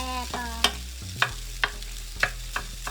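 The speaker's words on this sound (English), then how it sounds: "So we're gonna fry our rice" Rice being stir-fried, a series of sharp scraping and clinking strikes of a spatula against the pan at a steady pace, with a low hum underneath and no talking.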